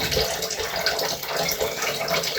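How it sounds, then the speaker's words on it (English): Water with pork bubbles and churns steadily in a pot, a dense hissing boil without pause. "So our pork is boiling perfectly."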